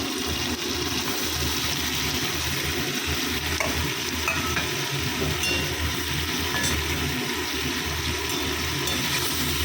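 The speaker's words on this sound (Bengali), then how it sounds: "পনিরটা একটু ভাজা হোক।" Paneer fries and is stirred in a pan, a continuous close sizzle with scraping stirring noise running throughout.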